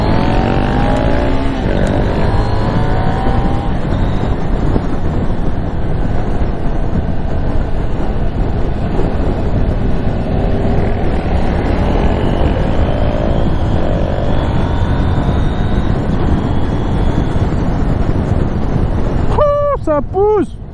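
A KTM Duke 790 motorcycle, A2-restricted version, pulls hard under acceleration with steady loud engine roar and wind rush throughout, ending with rising revs as it shifts up a gear; a voice speaks briefly over the noise.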